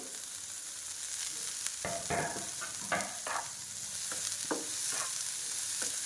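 Capsicum, carrot and tomato are sautéed in a pan for jowar dosa, giving a soft continuous sizzle broken by sharper stirring scrapes and clatters from the middle onward, heard alone.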